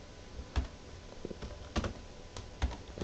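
A few scattered, quiet keystrokes click on a computer keyboard, with short irregular gaps between them.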